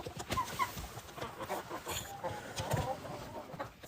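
Hens cluck and mutter busily as they file into the coop for the night, their calls close and continuous over a steady background hiss.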